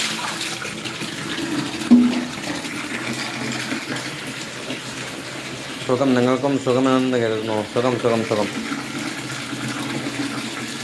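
Water runs steadily from a tap into a container, a constant rushing hiss throughout, with a voice talking and then singing over it partway through.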